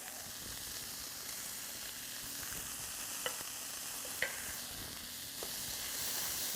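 Carrots sizzling in a pan while making a spinach pasta bake: a quiet, steady frying hiss with a few sharp clicks and taps of a utensil against the pan.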